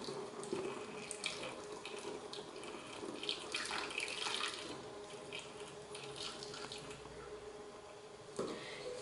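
Half a litre of water runs from a tap into a container while homemade eco-friendly liquid laundry soap is made, a steady splashing flow filling the vessel, fairly close, with a brief louder splash near the end.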